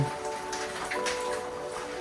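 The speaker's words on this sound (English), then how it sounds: "Good time to check how everything's coping with the rain." Steady rain patters on a fibreglass boat under repair, a continuous dense hiss with faint tonal hum underneath and no speech.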